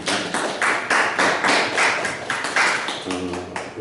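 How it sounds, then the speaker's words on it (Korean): A church congregation at a Sunday service claps in a steady rhythmic beat, the sharp pulses evenly spaced and fairly close, with a voice speaking briefly near the end. "박수 한번 하시겠습니다."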